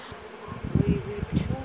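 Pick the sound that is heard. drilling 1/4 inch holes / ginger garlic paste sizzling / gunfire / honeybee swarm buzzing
honeybee swarm buzzing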